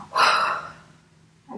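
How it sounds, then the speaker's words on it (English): A single audible breath during a contemporary dance class, a soft airy exhale that fades out, followed by the start of another breath, close and quiet with no talk. "Breathe in, breathe out."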